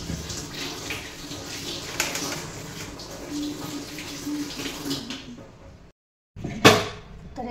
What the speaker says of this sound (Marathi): अशी धुवून घ्यायची.